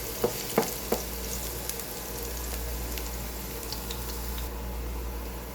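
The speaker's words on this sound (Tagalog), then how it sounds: "mainit na yung mantika, ilalagay na yung bawang. Gisahin lang hanggang sa ito ay mag golden brown" Garlic sizzles steadily in hot oil in a pan, a continuous close frying hiss with a few sharp crackles and spatters near the start, no voices.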